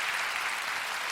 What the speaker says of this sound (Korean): 박수 칠 때마다 인사할 것 같으니까 박수는 적당히 알아서 쳐주셨으면 감사하겠습니다.